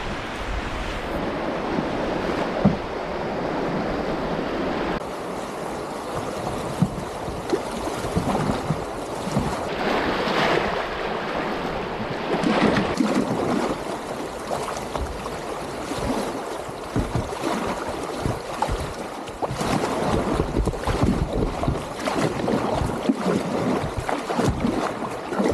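A solo canoe runs a river chute at Bowron Lakes, with rushing, churning water and wind buffeting the microphone in a loud, continuous roar, without voices.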